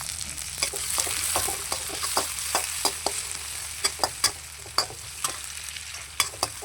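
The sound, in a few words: chopped onions frying in oil in a kadai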